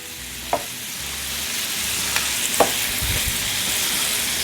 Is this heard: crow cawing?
no